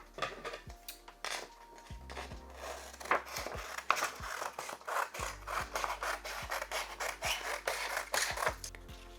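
Scissors snip through printed paper pattern sheets in a series of crisp cuts, with rustling and sliding paper between them, close and fairly quiet.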